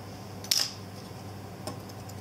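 Very fine forceps clicking against a fish otolith while it is removed from a cod or charr head: one sharp, close metallic tick followed by a fainter second tick over a quiet steady background hum.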